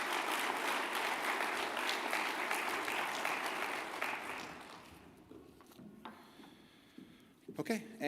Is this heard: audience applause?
yes